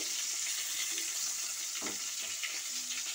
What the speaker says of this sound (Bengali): লাল লাল করে এই পাতুরিটাকে ভেজে নিচ্ছি।